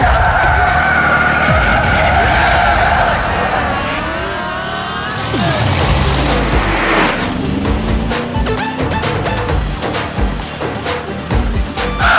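Cartoon motorbikes of a gang chasing a bus screech and skid loudly, with whooshing passes, tire squeals and revving engines layered in a busy, chaotic chase sequence.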